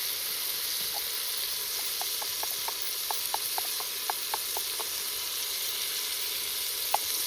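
Shrimp with turmeric fry in a pan, giving a steady, even sizzle throughout, with faint ticking pops scattered over the hiss.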